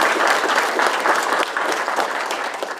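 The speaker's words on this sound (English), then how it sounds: "let's give a round of applause" Crowd applause at a city council meeting, dense and steady clapping from many hands throughout, fairly close and even in volume.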